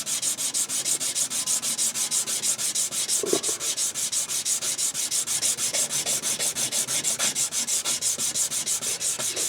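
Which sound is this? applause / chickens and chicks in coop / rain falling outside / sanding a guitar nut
sanding a guitar nut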